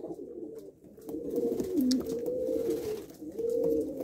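Janssen pigeons coo in low, rolling phrases, several birds overlapping close by, with a soft continuous murmur and brief pauses between calls.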